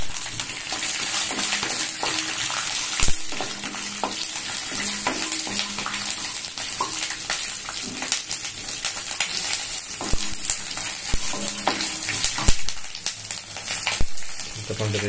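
Green chillies fry in hot oil with cumin and mustard seeds for tempering, a loud continuous sizzle with crackles and occasional sharp pops, close, while a voice speaks intermittently over it.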